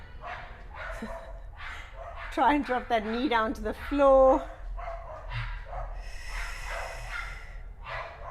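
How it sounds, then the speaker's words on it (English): Several dogs bark in a quick cluster, sharp and fairly close, while a person keeps talking calmly over the commotion. "lots of dogs barking"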